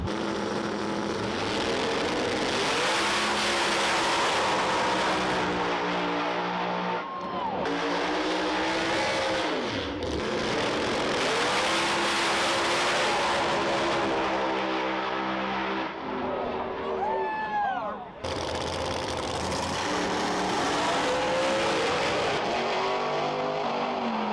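Drag racing cars roar down the Tulsa Raceway Park dragstrip, loud engines revving and rising in pitch through gear changes, with several passes in a row.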